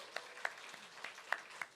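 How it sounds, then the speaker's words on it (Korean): A church congregation at a Sunday afternoon service gives a few sparse, scattered claps in thanks. The claps are faint and irregular against a quiet room. "하나님께 일단 박수로 감사를"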